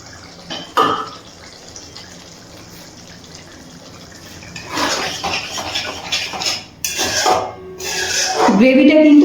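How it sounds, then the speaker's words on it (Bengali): A pot lid is lifted off a pan of simmering paneer curry with capsicum in a home kitchen, giving a few metallic clinks and clatters among bubbling and running water, with a person talking briefly. "ঢাকনাটা তুলে নিচ্ছি।"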